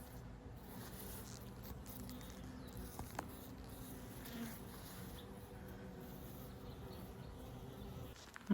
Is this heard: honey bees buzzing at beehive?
yes